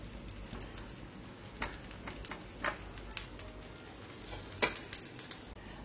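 Food spread with ghee sizzles faintly on a hot griddle, a soft steady crackle broken by a few sharp taps and clinks of a utensil against the pan.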